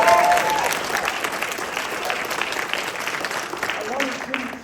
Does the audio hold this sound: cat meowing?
no